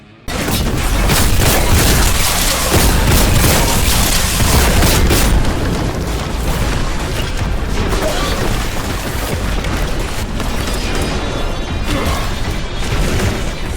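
In the shooter Warhammer 40K: Boltgun, a Multi-Melt-A-Gun unleashes a continuous, loud roar of blasts and booms that holds at full intensity for over ten seconds with crackling, crashing impacts layered throughout.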